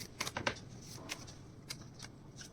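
Oracle cards being shuffled by hand, a few quick papery riffles and flicks up close, fairly quiet, with soft rustling between bursts.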